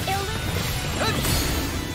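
Demon Fang lands in Tales of Arise, a loud, sustained crashing impact with a swooshing edge that fills the whole moment.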